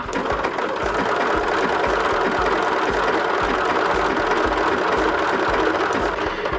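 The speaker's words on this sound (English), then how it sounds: "we're just stitching along the edge of it there" A sewing machine runs steadily, stitching along the edge of a fabric satchel in a quilting and embellishing session, with a fast, even mechanical chatter that holds loud and close for the whole stretch without any talk.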